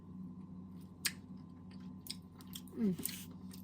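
Someone takes a taste of freshly cooked fried rice with naem, making a few soft, close chewing and biting sounds over a low kitchen hum, with a brief squishy bite near the end.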